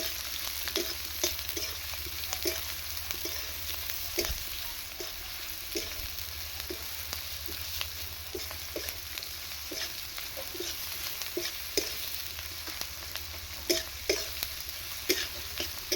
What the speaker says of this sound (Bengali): আমি পেঁয়াজটা তেলের সঙ্গে দিয়ে দিচ্ছি